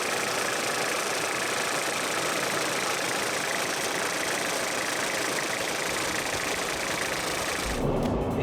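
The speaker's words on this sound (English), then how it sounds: "with a 4-cylinder 3-liter turbo diesel engine, and it's pushing out about 100 kilowatts and about 300 Newton meters" A Toyota Prado's 4-cylinder 3-liter turbo diesel idles with a steady, rough, slightly knocking clatter, close and continuous, cutting off abruptly near the end.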